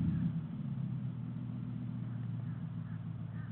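A low, rumbling engine of a customized C10 truck runs steadily and close by, its deep drone holding with little change.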